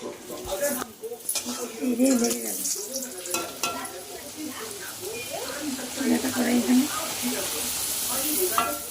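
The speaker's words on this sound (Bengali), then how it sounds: "আমি লুচি ভাজা শুরু করে দিয়েছি আর দেখো লুচিগুলো কিন্তু খুব সুন্দর ফুলছে" Luchi fry in oil in a wok with a steady crackling sizzle and occasional stirring, close by, while a person talks over the frying throughout.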